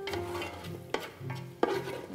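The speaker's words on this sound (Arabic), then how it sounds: "بعد ما حمر البصل بتوح عليه الطماطم، حط الطماطم" Tomatoes tipped onto browned green onions frying in a pan and stirred, giving a soft continuous sizzle broken by two sharp spoon scrapes, close and alone.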